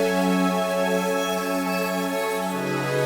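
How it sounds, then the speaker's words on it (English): Sustained synth chords layered with a top melody line, a rich harmonic pad steady and loud throughout, no voices. "So those chords and the top melody all together now."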